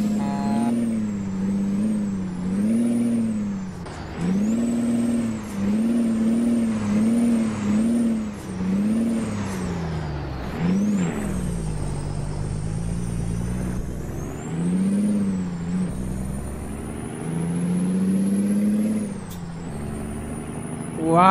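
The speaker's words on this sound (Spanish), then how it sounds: "esa máquina se escucha poderosa, ¿verdad? Se escucha bien poderosa" Kenworth W900 truck in American Truck Simulator, its engine droning steadily throughout with repeated revving swells and gear-change dips, loud and close, with a brief air-brake hiss and no talk.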